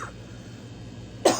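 A single sharp cough near the end of the clip, loud and close after a stretch of low room noise.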